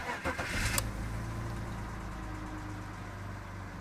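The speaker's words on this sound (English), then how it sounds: "let's start the car." A BMW car engine cranks for a short burst, then catches and settles into a steady, close idle hum that carries on to the end.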